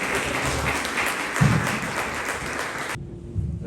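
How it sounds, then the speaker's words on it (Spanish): Church congregation applauding during a worship service, a dense steady wash of clapping that ends abruptly near the close. "Dale un fuerte aplauso al Señor."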